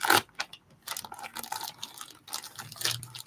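Peel-and-stick wallpaper samples being handled up close, giving bursts of crisp crinkling and rustling, loudest at the start, then continuing in irregular scrunches.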